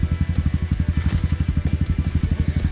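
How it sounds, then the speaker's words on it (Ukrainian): A motorcycle engine thumps in a fast, steady rhythm on a mountain trail near Yaremche, loud and close throughout with no other sounds over it. "Мотоцикл є."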